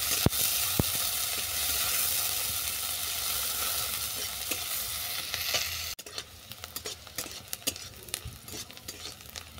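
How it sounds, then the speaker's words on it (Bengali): Garlic and chopped onion fry in a pan with a dense, close sizzle, then the sizzle thins out while sharp utensil scrapes and clicks of stirring come through clearly. "রসুন আর পেঁয়াজ ভাজা হয়ে গেছে, এটাকে নামিয়ে নিচ্ছি।"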